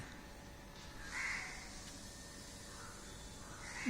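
A crow caws once, fairly faint and somewhat distant, over steady outdoor background noise, with a second brief call cut off at the very end.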